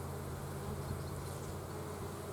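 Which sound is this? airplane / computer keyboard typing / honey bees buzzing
honey bees buzzing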